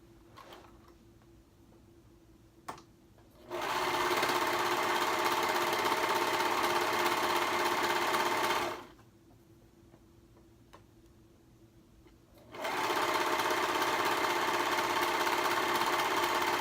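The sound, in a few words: serger sewing two hoodie pieces together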